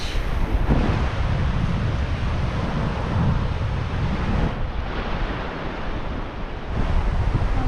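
Waves and wind on a beach, a steady broad roar of surf with buffeting gusts across the microphone, continuous and fairly loud throughout.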